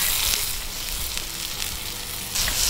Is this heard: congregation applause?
no